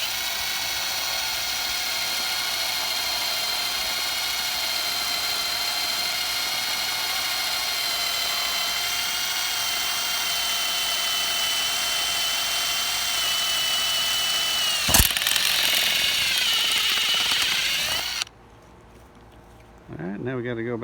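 A power drill with a 5/32 bit boring into a new mast tabernacle on an O'Day Day Sailer II, a loud, steady high whine held for about fifteen seconds, then a brief louder bite and the motor winding down.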